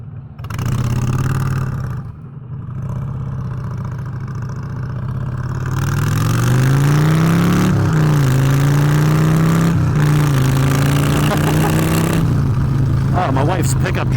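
A Honda Fury cruiser motorcycle engine rumbles while riding, a low steady drone that rises in pitch as it accelerates and shifts, loud and close, with voices talking over it.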